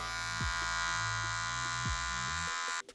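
Electric hair clippers buzz steadily and loudly with the lever open while cutting hair straight across in a home haircut, the motor hum continuous before cutting off near the end.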